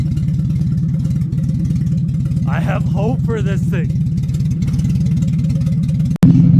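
A small dually pickup truck engine, smoking under throttle, runs with a steady low rumble throughout while someone talks over it, ending in a sharp clunk.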